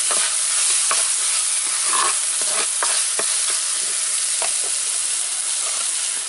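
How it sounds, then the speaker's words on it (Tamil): Onion, tomato and garlic frying in a pan, a loud, dense sizzle that runs throughout with frequent quick stirring clicks close by. "வெங்காயம் தக்காளி பூண்டெல்லாம் நல்லா வதங்கிடுச்சு"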